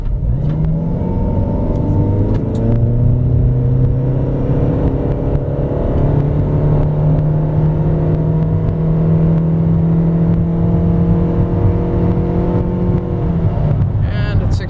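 A 2007 Ford Escape Hybrid pulls away uphill from a standstill, its engine droning and rising steadily in pitch as it accelerates, loud and close from inside the cabin.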